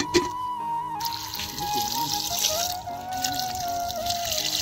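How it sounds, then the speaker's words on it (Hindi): Water pours steadily into a cooking pot for a spicy chicken and dried fish curry, a continuous close splashing trickle with a faint tonal hum underneath and no talking. "पानी थोड़ा ज़्यादा डालेगा"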